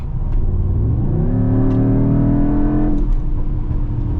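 A Mercedes-AMG GT63 hybrid V8 pulls hard in fourth gear on the German Autobahn, its loud engine note climbing steadily in pitch and holding high without a shift, heard from inside the cabin.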